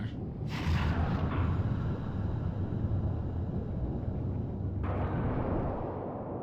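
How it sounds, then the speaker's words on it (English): Deep, continuous rumbling blasts as a submarine is scuttled with explosions in the video game Ghost Trick, loud and sustained throughout with a brighter burst early on before easing slightly. "So they scuttle the submarine. That's what the explosions are."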